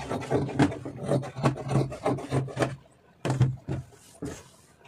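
Scissors cut through a fabric lining and main piece for an open-top garment. Close, rhythmic rasping snips repeat in a steady series, then pause briefly and resume.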